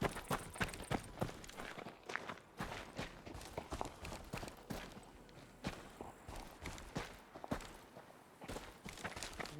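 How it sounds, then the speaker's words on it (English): Footsteps in the video game Deadside, a steady run of crisp, fairly close treads with an uneven rhythm, heard alone for nearly ten seconds. "Hear a footstep."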